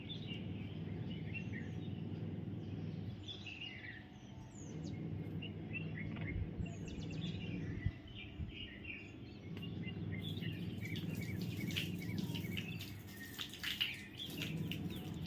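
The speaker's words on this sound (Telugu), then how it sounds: "చిలుకలు అయితే భలే వస్తాయండి పొద్దున్నే. ఎంత బాగా సౌండ్ మీరు వినండి" Parrots calling among trees in the morning, scattered chirps and squawks at moderate distance over a steady low rushing background, with denser calling toward the end.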